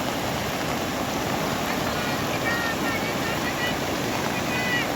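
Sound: strong flow of water in a stream

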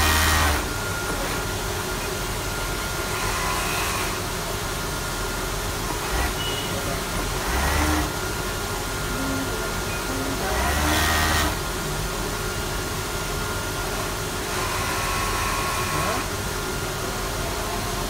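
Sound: industrial sewing machines stitching leggings in a factory

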